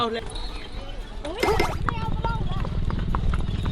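Horse-drawn carriage hooves clip-clop in a steady rhythm at close range in Mandalay, Myanmar, heard beneath people talking and background street noise.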